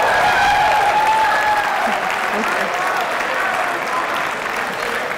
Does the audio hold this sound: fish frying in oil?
no